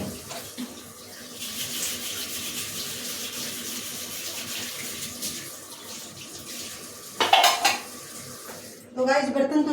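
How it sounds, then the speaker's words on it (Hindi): Steel utensils and a rolling board being washed in a steel kitchen sink: steady running tap water with metal dishes clattering and clanking, a loud burst of knocking near the end, no voices. "ये चकला भी मैंने धो दिया है।"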